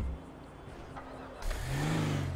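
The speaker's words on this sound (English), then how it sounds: "I actually like this new touch where the engine doesn't turn on unless you use accelerator" A car engine in GTA 5 on a UK police patrol mod catches and revs up, a low rumbling swell rising midway through the clip after a quieter idle-like stretch.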